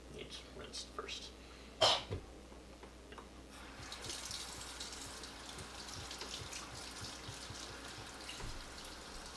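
A metal spoon rinsed under a running tap: soft, steady water noise starts a few seconds in and continues to the end, faint and close, with a cough and some talk nearby.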